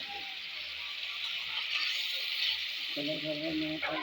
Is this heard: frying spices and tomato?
yes